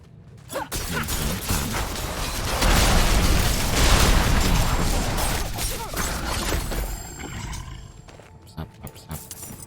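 Explosions in the video game Diablo 4: loud booming blasts and rumbling roars swell in the middle, with mechanical clatter around them and fading crackles toward the end.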